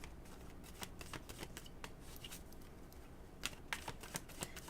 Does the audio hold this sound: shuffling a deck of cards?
yes